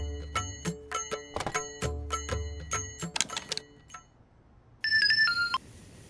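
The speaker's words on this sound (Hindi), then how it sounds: "नियति का फोन आया था।" A mobile phone rings with a bright, repeating electronic melody, several short tonal bursts in a rhythmic pattern, followed by a brief pause and a different chirping tone near the end.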